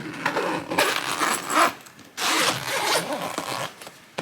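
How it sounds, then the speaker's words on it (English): A zipper on a storage bag is pulled open in several quick, rasping strokes with short pauses between them, close and clear with no talking. "Find that zipper."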